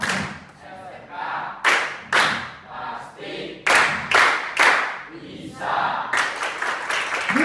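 An Indonesian primary classroom performs a rhythmic spirit clap, with loud bursts of group claps and thumps in a set pattern separated by short pauses. Voices can be heard along with it.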